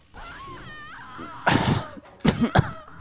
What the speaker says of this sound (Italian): mi è venuta la tosse